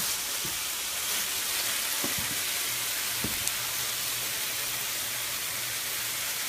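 Chicken sizzling steadily in a regular skillet, a constant close frying hiss with a few faint clicks and taps throughout, no talking.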